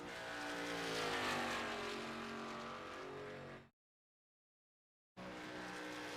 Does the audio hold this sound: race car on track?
yes